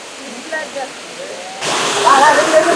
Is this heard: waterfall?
yes